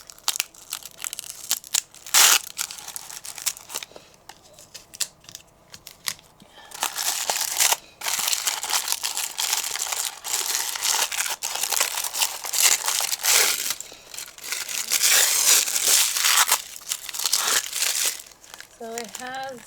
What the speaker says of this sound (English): Let me see if I could peel it out without breaking it